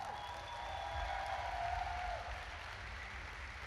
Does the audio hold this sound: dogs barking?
no